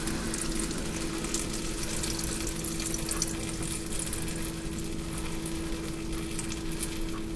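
Cottage cheese curd wrung in a cloth bag over a stainless steel bowl, releasing a steady, continuous trickle and splash of whey that runs at an even level throughout with no talking.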